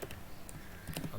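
Keys clatter on a computer keyboard while someone types during web development work, a few quiet, quick, irregular clicks heard close against a low background hiss.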